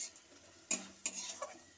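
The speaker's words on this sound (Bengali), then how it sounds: "আমি এর মধ্যে এবার রেখে দিয়েছিলাম সুজিটা এবার নেড়ে নেব" A spoon scrapes and stirs semolina in a pan after cumin has been fried, giving a few sharp, close scraping clicks between quiet moments, with no talking.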